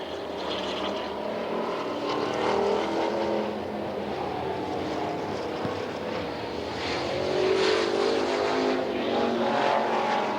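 Race cars roar around Coos Bay Speedway in 1988, a dense continuous engine din that swells and fades as cars pass, loud and unbroken for the whole stretch with no speech.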